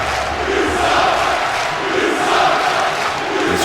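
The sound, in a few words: crowd cheering in WWE 2K wrestling video game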